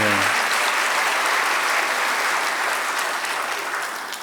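Dense applause from an audience at a 40th anniversary event, steady and full from the start, then gradually thinning toward the end.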